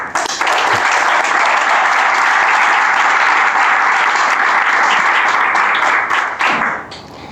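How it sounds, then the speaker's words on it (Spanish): A large audience applauds a guest speaker at a talk, Ignacio Gordillo, with sustained, loud, dense clapping that holds evenly before tapering off near the end. "pido un aplauso para él"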